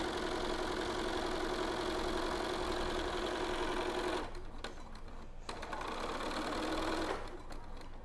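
A sewing machine runs a seam on a cotton pillowcase, whirring steadily and close up for about four seconds, then stops briefly and starts again in short bursts.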